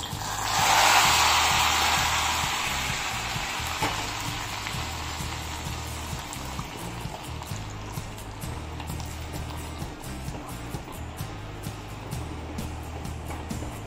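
Hot tempering is poured into a pot of tamarind-leaf dal, producing a sudden loud hissing sizzle that peaks at once and then slowly fades into a steady softer crackle with faint clicks.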